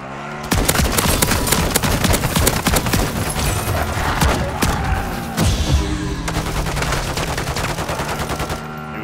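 Dense, continuous gunfire from Modern Warfare 3 Zombies, rapid automatic bursts layered with single shots, loud and close for most of the stretch with brief lulls, game sounds beneath and no voices.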